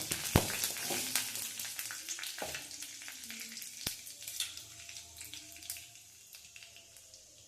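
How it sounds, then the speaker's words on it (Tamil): Mustard seeds and urad dal sizzling in hot oil for a banana-flower (vazhaipoo) kuzhambu, sharp irregular pops and crackles over a continuous hiss, close by and gradually settling, with no talking. "கடுகு நல்லா பொரியணும்"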